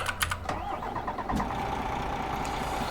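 A truck engine cranks and fires in American Truck Simulator, using a DAF MX-13 sound on a 2014 Kenworth T680 6x2, with a brief starter whir, a catch, then a steady low idle rumble.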